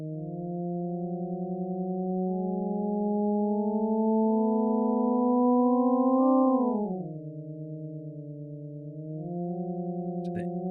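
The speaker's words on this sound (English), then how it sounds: "define a little triangle filter that's sweeping up and down tone clusters, right? And that gives us a chord controlled by the data" Data sonification produces a chord of smooth sine-like tones from a triangle filter sweeping tone clusters, gliding slowly upward, dropping sharply, then settling and rising slightly again, steady and moderately loud.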